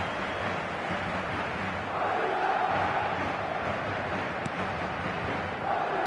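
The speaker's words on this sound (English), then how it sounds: "the crowd have tried to spark some excitement, but to no avail" A stadium crowd in the eFootball 2026 soccer video game murmurs and swells in a broad, steady roar at moderate level, rising slightly in the middle.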